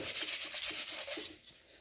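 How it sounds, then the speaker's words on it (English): Sandpaper rubs by hand across a cast iron engine cylinder head in quick, even back-and-forth strokes, close and faint, about a dozen rasping passes before stopping abruptly. "So sanding on it like I'm doing right here, I'm not going to take enough metal off."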